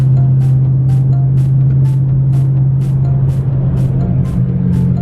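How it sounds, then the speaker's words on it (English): A car with catless midpipes and a mid muffler delete drones steadily at close range while overtaking a construction truck on the road, with a constant low exhaust hum and faint rhythmic ticks throughout. "But let me get by this truck"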